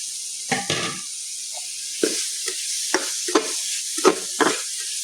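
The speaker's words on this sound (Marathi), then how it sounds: "आतां घालता हांव ढब्बू मिरची." Chopped capsicum tossed into a frying pan with tomatoes and stirred: a constant hiss of frying broken by several scraping, clattering stirs of a spoon against the pan, close and clear, without talk.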